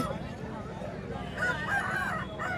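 A rooster crows nearby at a hen market in Kothagudem, Telangana, its call rising over the murmur of people talking in the background.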